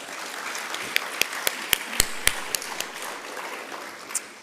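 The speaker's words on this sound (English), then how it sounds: "Let's give them a round of applause, please" Scattered audience clapping at a book fair, a thin spread of individual claps with a few sharp louder ones standing out, moderate and fairly close, with no talk over it.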